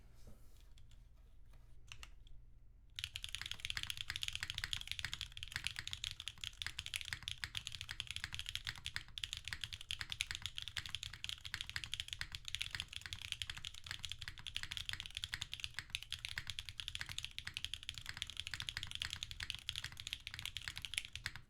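Steady, fast typing on a carbon fiber mechanical keyboard with SWK Cheddar switches and GMK Lime keycaps, close and continuous clacking that starts after a few seconds of near silence.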